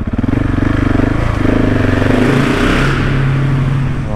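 A 2019 KTM 690 SMCR single-cylinder motorcycle fitted with a new Wings exhaust silencer idles and revs loudly up close, a steady throbbing beat rising and holding with no talk.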